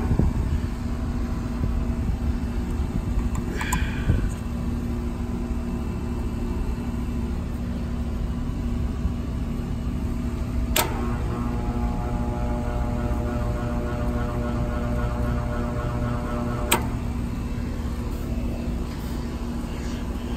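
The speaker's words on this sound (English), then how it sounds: "This one's drawing locked rotor on startup." An HVAC unit's compressor stuck in locked rotor on startup, failing to turn over, gives a steady low electrical hum with a faint mains-like tone, holding unchanged throughout with a couple of brief clicks.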